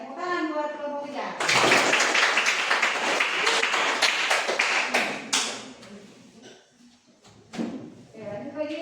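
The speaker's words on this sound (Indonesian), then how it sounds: "Tepuk tangan buat kelompok 3" A school classroom of students gives a burst of applause for a group that has just presented. The dense, loud clapping lasts several seconds and then fades, with a teacher speaking before and after it.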